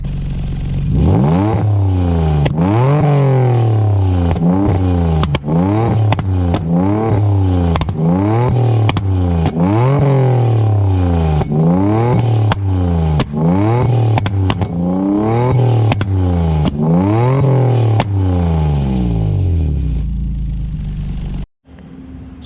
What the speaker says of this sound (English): this is for the popping exhaust sound, backfire.